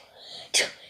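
A single sharp, breathy sneeze bursts out close up after a brief hushed intake of breath.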